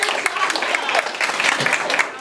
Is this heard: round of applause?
yes